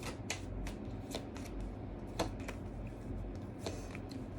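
Tarot cards being shuffled, quiet and close, a run of soft riffling flutters and light slaps over several seconds with no speech.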